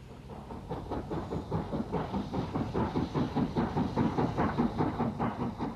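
Riddles WD 2-8-0 steam locomotive passing on a Pennine line in the 1960s, its exhaust beating in a rapid, regular rhythm that grows louder and quickens, heard from nearby with a steady rumble underneath.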